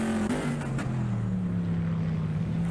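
Trans Am race car engines roar in an esports racing game at Michelin Raceway Road Atlanta, loud and close, a sustained drone whose pitch falls and then climbs again as the car changes speed, with no talk over it.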